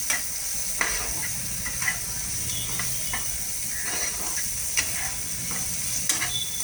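Potato pieces, already fried with salt and turmeric, are tossed together with a mixture in a pan, giving a steady soft sizzle with scattered scraping and clinking strokes from the spatula, no voices.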